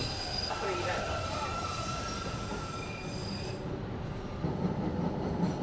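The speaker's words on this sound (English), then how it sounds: "I just got on a trolley going downtown." A downtown trolley train rolls along on rails, giving a steady rumble with squealing wheels and high metallic whines, close and continuous.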